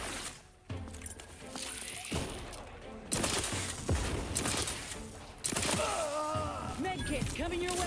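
Gunfire in The Outer Worlds 2, scattered shots and short rattling bursts in a firefight, partly under voices of characters talking over the action.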